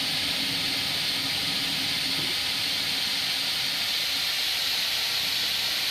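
An LVLP spray gun lets out compressed air in a steady, continuous hiss with no breaks, loud and alone, set against a faint low rumble.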